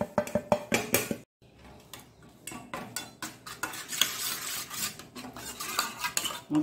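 A spoon briskly stirs a slurry for palak corn gravy in a bowl, making rapid, close clinking and scraping strokes that pause once briefly, then carry on steadily.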